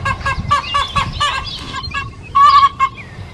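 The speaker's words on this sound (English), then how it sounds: "My neighbor's chickens are telling you good morning." Chickens cluck and squawk in a lively burst of repeated calls, fairly close, with one louder drawn-out squawk near the end.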